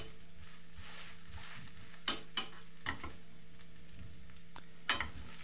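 Grated rösti potatoes fry in a pan with a soft steady sizzle while a spatula presses and flattens them, giving a few sharp scraping taps against the pan; close and moderately quiet, with no talk.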